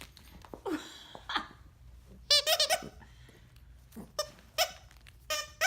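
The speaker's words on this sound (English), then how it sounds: "You keep squeaking the one that you broke." A dog chews a broken squeaky toy, producing irregular clusters of short, strained squeaks and wheezes at close range, separated by softer chewing and rustling.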